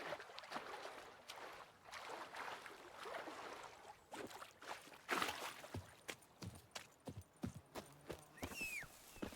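Roach, the horse in The Witcher 3, trotting with irregular hollow hoof clip-clops, faint and uneven, some louder strikes near the middle, mixed with soft ambient game noise.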